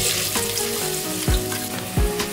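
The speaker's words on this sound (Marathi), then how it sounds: "तेल गरम झालेलं आहे, तेलामध्ये कांदा घालूया।" Chopped onion hitting hot oil in a large pot, a loud steady sizzle and crackle with a few sharp stirring scrapes, close up with no talking.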